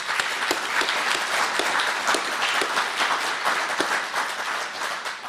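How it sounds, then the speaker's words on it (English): An audience at a book launch claps steadily in a sustained round of applause, with no speech over it. "And let's give Jack another round of applause."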